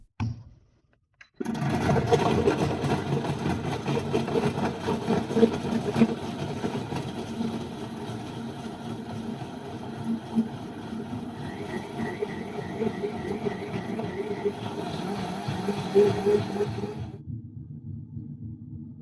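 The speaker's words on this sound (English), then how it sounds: "After the drink is made, wait for the motor to stop running." Blender motor running with a mixing cup fitted while a drink is made, a steady close electric whir starting abruptly and holding for about fifteen seconds before cutting off, no talk.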